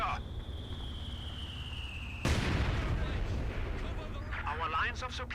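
Mortar fire and battlefield explosions in Company of Heroes 2: a sharp boom cuts in, then a rumbling barrage of blasts and gunfire rolls on, with voice chatter layered over the combat.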